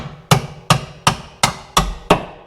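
Six evenly spaced hammer taps ringing against a car's steel control arm during an adjustable control arm install, each a sharp metallic strike with a brief decay, close and loud.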